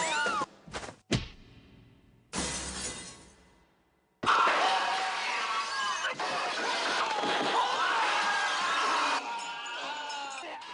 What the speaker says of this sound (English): Jackie's films make frequent use of glass stunts